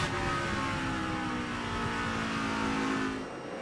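NASCAR race cars at full speed during the 2006 Crown Royal 400, a dense roaring wall of engines holding steady before easing off slightly near the end.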